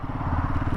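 A Royal Enfield Himalayan 450 motorcycle engine idles at about 500 rpm with a low, steady, throbbing rumble, close and fairly loud, only a brief moment long.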